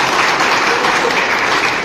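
A packed hall breaks into loud, continuous clapping for the teachers at a 2010-batch school reunion of Gram Prabodhini Vidyalaya, Salumbre, a close and even roar throughout.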